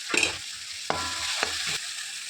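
Ginger garlic paste sizzles in a hot pan while being stirred for chicken kurma. A steady frying hiss is broken by a few sharp scraping strokes of the spoon, close up.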